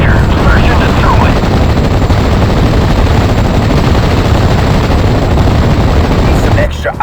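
Dense gunfire rattles nonstop in Steel Division: Normandy 1944, loud overlapping machine-gun bursts and shots forming a continuous barrage that cuts off abruptly near the end, with voices calling out beneath it.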